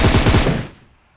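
Rapid Beryl rifle bursts in the BGMI mobile shooter, a loud close spray of about six quick shots over half a second, then a fading tail with no talk.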